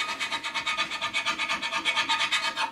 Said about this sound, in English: you can just scrape the rust off